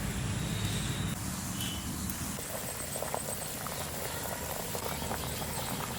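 A kadai of water with salt heats on the stove, giving a steady bubbling simmer with a soft rattling texture, continuous and close, without talk.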